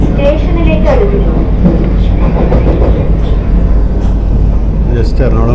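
Steady rumble and rolling noise of the 20634 Vande Bharat Express on the Thiruvananthapuram Central to Kasaragod run as it approaches a station near a coaching depot, heard from on board, with someone talking over it throughout.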